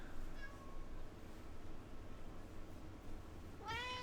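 A cat meows twice, once faintly near the start and then louder and closer near the end, over a steady low background hum.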